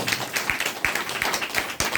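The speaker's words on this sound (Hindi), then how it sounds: "अपने लिए जोरदार ताली बजा सकते हैं" Scattered clapping from an audience at a motivational business meeting, uneven and moderately quiet, with irregular hand claps spread across the moment.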